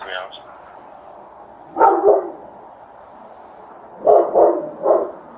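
A dog barks in short bursts nearby during a police bodycam encounter, a pair of yips near two seconds and a quicker run of three barks toward the end, with people talking.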